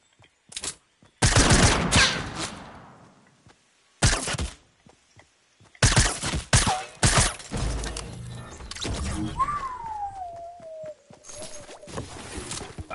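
Bursts of SMG fire in Fortnite come in several separate volleys, loud and close, with gaps of quiet, clattering thuds and a rising-then-falling whistling tone near the end.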